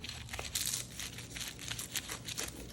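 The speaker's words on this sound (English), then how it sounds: "Gonna cut into this with a pizza cutter." A pizza cutter rolls through the layers of an apple pie baklava, giving soft crinkly crunching of flaky pastry, quiet and close, repeating in small bursts for a few seconds.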